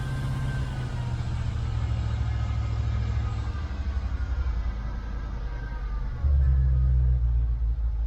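Engine of a 1990 left-hand-drive Range Rover idling steadily in neutral with a low rumble, then rising sharply as it is revved near the end, close and loud.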